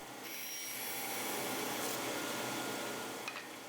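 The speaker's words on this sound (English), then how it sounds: "I get started by milling lumber to the correct dimensions." Woodworking machine milling lumber to dimension in a shop, a steady, loud whirring drone that holds throughout, with a brief rattle near the end.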